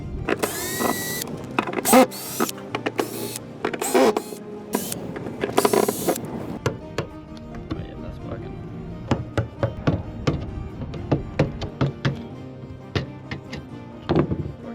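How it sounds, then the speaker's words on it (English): A router trims about a centimetre into the corners of a boat's hatch openings, giving loud bursts of high-pitched cutting in the first six seconds, then intermittent clicks and knocks of handling and repositioning. "I'm gonna have to get the router and just trim about 1 centimeter into these corners"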